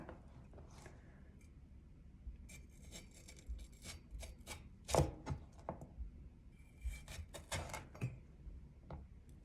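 Irregular crisp cracking and scraping sounds as small hard tablets are cut, with bursts of snapping in quick succession at close range.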